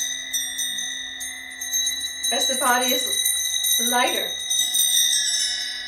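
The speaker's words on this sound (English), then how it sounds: "These are the hydrogen chimes." Hydrogen chimes ring with sustained bright metallic tones that linger and shimmer at a sound-healing session, heard beneath a person speaking.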